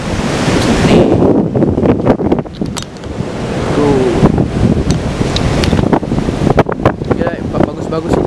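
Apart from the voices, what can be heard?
waves and wind on a beach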